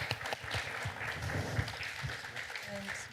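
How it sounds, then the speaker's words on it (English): Conference audience applauding at a climate and energy forum in Vienna, a steady broad wash of many hands clapping throughout, moderately loud and fairly near. "please give a round of applause"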